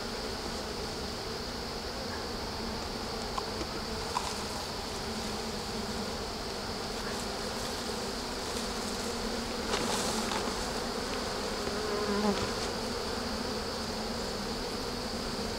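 A dense swarm of honeybees buzzes steadily and close, a continuous droning hum with individual bees passing nearer now and then.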